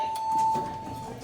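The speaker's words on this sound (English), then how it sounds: "When you push the button, it'll chime." A single steady electronic chime tone from a Montgomery hydraulic elevator, modernized with General fixtures, at Tysons Corner Center, sounding for about half a second at moderate level over faint background noise.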